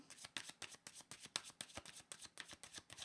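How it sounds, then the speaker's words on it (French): Tarot cards shuffled by hand in a quick, regular run of crisp riffling flutters, close and fairly quiet, with no voices. "Je vais demander d'autres cartes."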